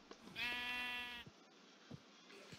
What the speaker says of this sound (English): so we have a sheep